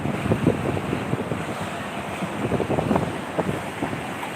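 Rough sea waves break steadily along the shore at Gumaca, Quezon. The surf churns continuously under heavy wind buffeting the microphone, and no one speaks.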